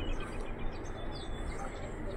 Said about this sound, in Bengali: সারাক্ষণ পাখির ডাক তোমরা শুনতে পাবে, ইভেন এখনও শুনতে পাচ্ছ